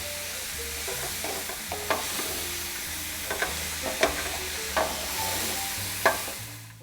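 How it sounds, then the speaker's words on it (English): Vegetables and rosemary sauteing in a pan, a steady close sizzle with periodic stirring scrapes and knocks of a utensil against the pan. "Now we're gonna just saute this till the vegetables get pretty darn soft."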